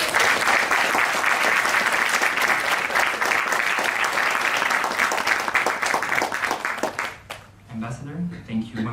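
An audience at a conference on Lebanon gives an ambassador loud, sustained applause for several seconds. The clapping fades out and a voice begins speaking.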